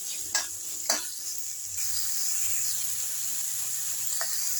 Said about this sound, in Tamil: இந்த ஸ்டேஜில் வெங்காயத்தை போட்டு வதக்குறாங்க.